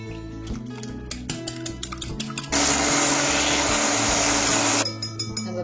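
An electric beater whirs steadily for about two seconds as it whips cake batter of two eggs, oil and vanilla essence for a chocolate cake, with clinks and taps from the bowl before and after.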